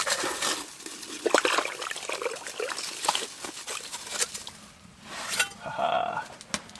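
Water is scooped and poured from a hole drilled through frozen lake ice at a -40° winter camp, splashing and trickling in close, irregular bursts with soft sloshes and patters.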